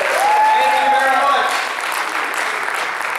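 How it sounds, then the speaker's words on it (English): Steady applause from a church revival crowd fills the space, with a voice calling out over the clapping at the start. "Give them a big clap."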